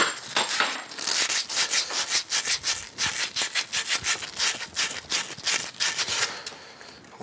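A copper pipe is cut by hand on a workbench with rhythmic back-and-forth sawing strokes, roughly two per second, close and fairly loud, with no speech.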